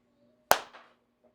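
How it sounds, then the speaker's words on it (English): A single sharp hand clap rings out close and loud in a quiet room, followed by a short decaying echo. "Don't clap. That's so loud."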